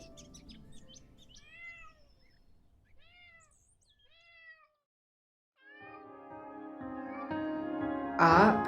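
A cat meows several times in short, close, rising-falling calls, separated by quiet gaps, followed by louder sustained tonal sounds and a noisy burst at the end.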